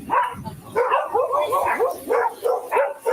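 A dog barks repeatedly in a tense domestic scene at a home, sharp yips and barks recurring every half second or so, close and loud, mixed with agitated voices speaking over it.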